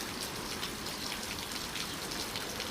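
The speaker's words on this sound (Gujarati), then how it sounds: "જોરદાર વરસાદ આવી રહ્યો છે ને અમારે બાહુબલી થોડોક ચિંતામાં મુકાઈ ગયો" Heavy rain pours down steadily, a dense continuous hiss of drops striking surfaces, with no voices.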